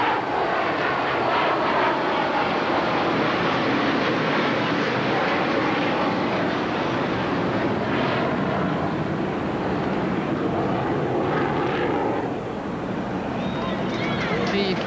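A propeller airplane drones low and steady over an outdoor tennis stadium at the 1989 US Open, its engine roar filling the whole stretch while a commentator talks over it.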